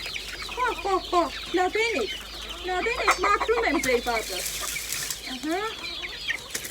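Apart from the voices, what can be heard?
chickens and chicks clucking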